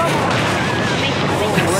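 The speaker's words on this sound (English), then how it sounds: "So many explosions." Explosions in the video game Zeeple Dome from Jackbox Party Pack 5, a dense loud continuous rumble of blasts with no clear gaps.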